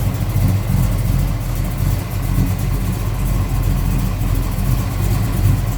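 A 1969 Chevrolet Chevelle two-door hardtop with a 454 V8, headers and a 4-speed idles in a loud, steady, rumbling burble close by, alone without talk.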